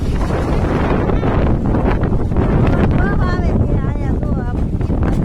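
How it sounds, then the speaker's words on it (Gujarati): Strong storm wind buffets the microphone in a steady, loud roar, with voices faintly heard through the gusts. "વાવાઝોડું હોય ને એટલો પવન છે"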